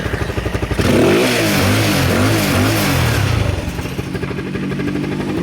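A Skygo King 125/150 motorcycle engine runs close by, its uneven idle rising into a steady rev, then settling back to a rhythmic, slightly clattery running beat.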